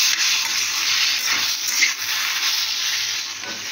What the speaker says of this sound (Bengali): এখানে হচ্ছে দেখো ভেন্ডি ভাজা হচ্ছে।